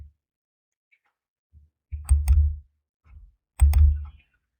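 Two quiet computer mouse clicks, spaced about a second and a half apart, each with a soft low thump, in an otherwise silent room.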